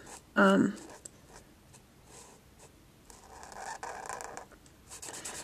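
A BIC Mark-it marker scratches and rubs across paper in short bursts and longer strokes, close up, after a brief louder noise at the start.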